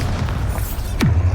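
A Bombarda explosion spell in Hogwarts Legacy landing as a deep, rumbling boom with a low, rolling tail, loud and close, heard alone.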